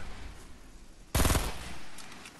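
A short, dense burst of rapid gunfire from Fortnite rings out midway, loud and close, lasting about a third of a second before fading into low background game noise.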